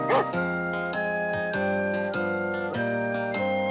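A cartoonish dog bark, followed by a bright whistling, tonal musical tune, comes from a Hi-Ho! Cherry-O VCR board game. It plays clearly and alone, with no talking over it.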